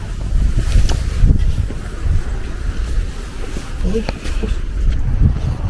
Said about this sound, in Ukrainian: Ось тут вітер трохи.